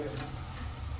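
Moong dal vadas fry in hot oil, giving a quiet, continuous sizzle and bubbling with faint stirring. No one speaks.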